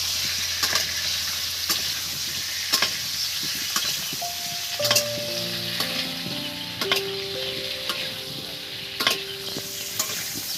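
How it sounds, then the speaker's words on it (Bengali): Large potato chunks frying in hot oil, a steady crackling sizzle broken by sharp clinks and scrapes of a utensil against the pan, plus brief tonal ringing of metal near the middle. "এই তেলের মধ্যে আমি এই আলুগুলো দিয়ে দিচ্ছি। আলুটা ভালো করে ভেজে নেব"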